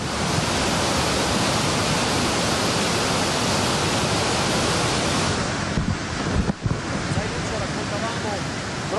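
Floodwater rushing down a valley after a storm, a loud, dense, unbroken roar filling the whole clip, with a brief dip and some wind buffeting on the microphone toward the end.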